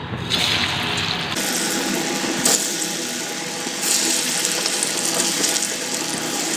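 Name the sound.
dhoka pieces frying in hot oil in a wok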